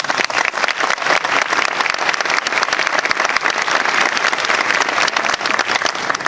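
An audience at a medal ceremony applauds loudly and continuously, a dense wash of many hands clapping that holds steady throughout with no pauses.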